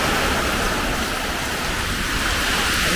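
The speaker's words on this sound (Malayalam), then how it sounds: "മഴ കാറ്റ് ഭയങ്കരം" Heavy rain pours steadily with gusting wind, a dense continuous roar that stays loud and close throughout, with no voices.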